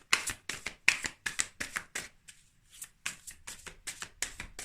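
A deck of tarot cards being shuffled by hand, with a dense series of crisp riffling flutters and soft slaps, briefly pausing near the middle before resuming, close and fairly quiet with no voice.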